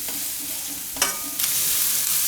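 Onions frying with salt in a pan, with a constant bright sizzle and a couple of sharp stirring scrapes, close and fairly loud, no talking.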